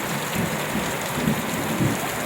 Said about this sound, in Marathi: अशा पद्धतीने पाऊस सुरू आहे